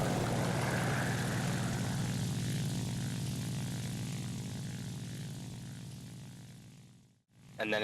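Propeller engine of a Ki-84 Hayate fighter in War Thunder, a steady loud droning hum holding close for several seconds, then cutting out briefly near the end before resuming.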